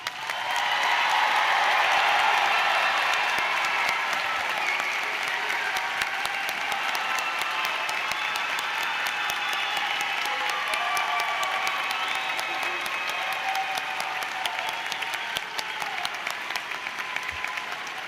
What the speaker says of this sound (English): A round of applause for our graduates.